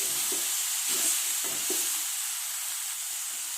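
Cut tomatoes for chutney are stirred in a hot pan, a soft steady sizzle with a few light scraping strokes of a spatula, close and quiet, with no talking.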